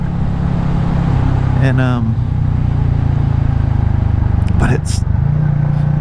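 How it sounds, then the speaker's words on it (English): A Royal Enfield-style Classic 350 motorcycle engine rumbles steadily and loud while riding, a continuous low throbbing drone with wind noise, as someone talks briefly over it. "The motor's just got just enough of a rumble."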